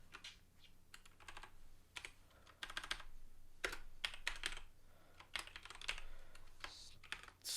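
Someone types on a computer keyboard in quick bursts of clicking keystrokes separated by short pauses, close and clear with no other sounds.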